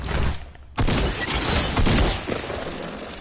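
Gunners in a video game course open fire: a sudden loud, sustained crackling barrage starts after a brief lull and rolls on steadily to the end, close and dense.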